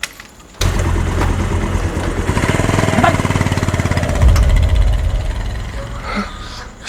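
A motorcycle engine starts abruptly and runs with a loud, rapid chugging throb, revving as the bike is ridden away, then cuts off near the end.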